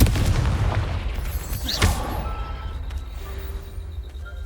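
A Confringo blasting spell goes off in the Hogwarts Legacy video game, giving a single heavy booming burst over a dense rumbling game backdrop that then fades into a steady low drone.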